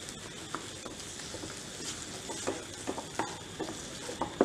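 A milk mixture for modak melts in a kadhai over low gas while being stirred, with a soft, continuous sizzle broken by scattered light scraping taps, close and quiet, with no voices.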